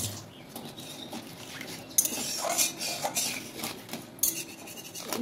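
Metal spoon scraping and clinking in a pan of tamarind water with a little sugar cooking on the stove, steady soft stirring with occasional sharper clinks, close and moderately quiet.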